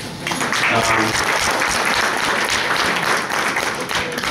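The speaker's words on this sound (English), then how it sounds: "thank you for your applause" A conference audience claps after a presentation, a dense, steady wash of applause that stays loud and even for several seconds, with no speech over it.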